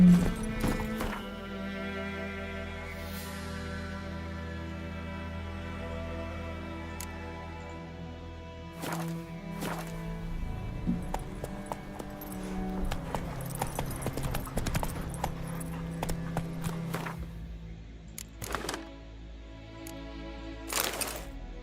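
Roach, a horse in The Witcher 3 game, moves over ground with steady clip-clopping hoofbeats over a sustained musical drone, a few louder thumps and a whinny-like sound toward the end.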